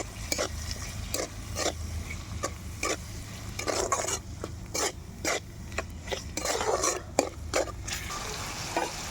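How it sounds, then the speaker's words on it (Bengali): Spices with salt and ground masala being stirred and fried in a pan for a Bengali rohu fish curry, with repeated short scraping strokes of a spatula over a steady low sizzle, close and moderately loud. "এবার ভালো করে মশলাগুলোকে আমি কষিয়ে নেব"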